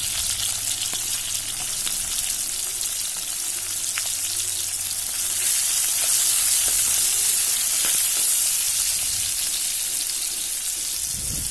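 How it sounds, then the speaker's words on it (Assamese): Onions sizzle in hot oil in a wok, a steady, loud, continuous frying hiss throughout with occasional light stirring, no voices. "তেল গৰম হৈ গ'ল, পিঁয়াজ দি দিছোঁ।"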